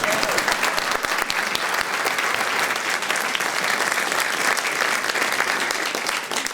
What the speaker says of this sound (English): So I think we should clap.